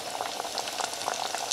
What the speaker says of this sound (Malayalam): ഇതിൽ നിന്ന് ഓരോന്ന് എടുത്തിട്ട് ഈ തിളച്ച ഓയിലേക്ക്